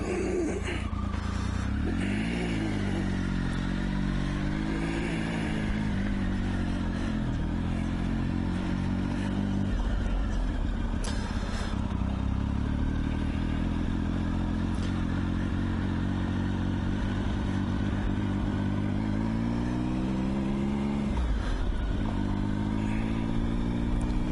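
A Triumph Tiger 955i motorcycle rides over gravel, its engine droning loudly and rising and falling in pitch as the rider works the throttle, with wind rush and crunching grit underneath and no speech.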